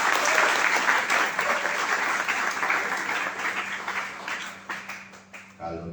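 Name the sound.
applause at a hospitality school graduation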